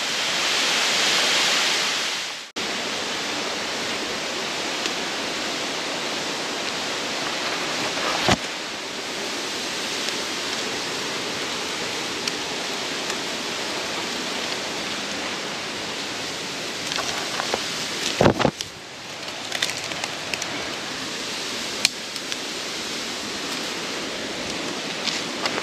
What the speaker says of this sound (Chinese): 我的旁边呢，就是这个瀑布的上层